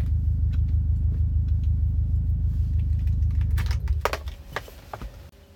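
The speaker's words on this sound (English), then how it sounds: "I'm gonna cut off the car" A car engine idles with a steady low rumble, then is switched off near the end, the hum dying away amid a few clicks and rustles.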